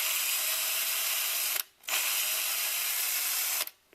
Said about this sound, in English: I'm actually going to just drill a hole underneath it first